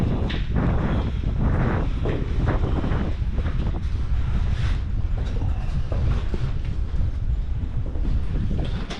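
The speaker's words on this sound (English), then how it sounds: "the breeze that you can feel in this tunnel is insane. Like a wind tunnel." Strong wind rushes through an abandoned mine tunnel deep under the mountains, a continuous loud roar with gusty rumbling buffeting the microphone.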